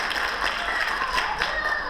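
An audience at the 2013 Black Women's Expo in Chicago applauds, a dense, continuous patter of many hands clapping at an even level, with bright, crisp claps close by.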